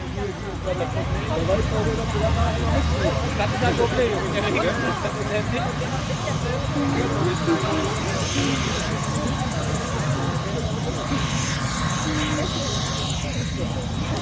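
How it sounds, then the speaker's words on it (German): A police helicopter drones steadily overhead, a continuous rumbling rotor noise that stays loud throughout without letting up. "das ist ein Polizeihelikopter"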